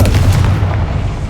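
Confringo fire spell blast in Hogwarts Legacy, a loud, heavy booming explosion at the start that rumbles and fades out over a second.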